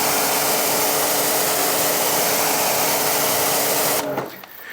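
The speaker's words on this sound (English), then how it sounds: "the high pressure rinsing alone does to those bugs" High-pressure water spray rinsing bug residue off a car, a loud steady broadband hiss that runs continuously and then cuts off abruptly near the end.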